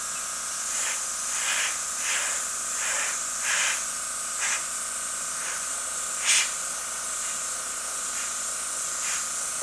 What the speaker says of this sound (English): Here I'm spraying more or less on the loose paper shield